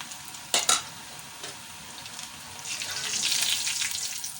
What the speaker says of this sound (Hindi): इसी तरह से अब हम सारे पकोड़े तल लेते हैं।